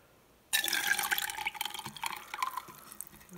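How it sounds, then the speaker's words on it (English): Herbal vinegar poured from a container into a one-cup measuring cup, a sudden splashing start followed by a steady trickling stream that gradually thins, heard close and alone. "I'm just gonna pour it in there"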